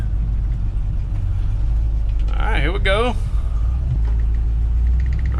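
A 1968 Ford F100 pickup rumbles steadily on the road as it drives, a low continuous engine drone with a few brief squeaky sounds over it midway.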